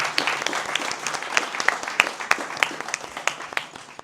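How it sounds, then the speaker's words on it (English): Applause from guests at a Newroz reception in the Speaker's House in London, a fairly small room's worth of distinct hand claps rolling steadily, close and lively, with no talking over it. "So can we have a massive round of applause for everyone?"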